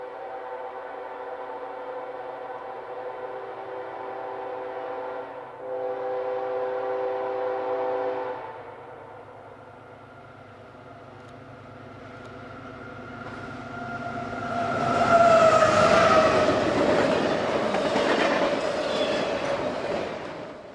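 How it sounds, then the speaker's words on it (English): Eastbound intermodal stack train I-168 races along the Meridian Speedway near Simsboro behind two Norfolk Southern locomotives: a sustained multi-tone horn blares, then a swelling roar of engines and rolling cars builds loudly and holds. "daily stack train I-168 is seen racing eastbound with a pair of Norfolk Southern stallions on the lead"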